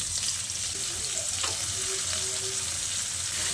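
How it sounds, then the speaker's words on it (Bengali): Chopped onions frying in a pan with tempered spices for a Hyderabadi mutton dum biryani, a dense, steady sizzle heard close and alone, with occasional faint stirring sounds. "পেঁয়াজটা দিয়ে বেশ কিছুক্ষণ নেড়ে চেড়ে পেঁয়াজটাকে ভালো করে ভেজে নিতে হবে"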